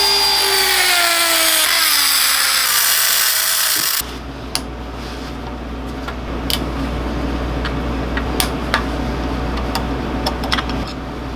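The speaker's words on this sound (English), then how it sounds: "So I'm going to take a Dremel, notch these, and we'll be able to pull this bowl right off." A Dremel rotary tool cutting notches into the tamper-proof screws of a Bashan Motomax 250 carburetor float bowl, first a high whining spin-down, then sustained grinding with scattered sharp clicks and scrapes, close and loud.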